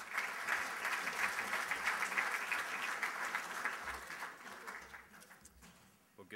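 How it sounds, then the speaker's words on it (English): Sustained applause from a large audience at a broadband summit keynote, loud and dense for several seconds before gradually thinning out toward the end. "Please give me a great round of applause for Dan Kent, Cisco CTO."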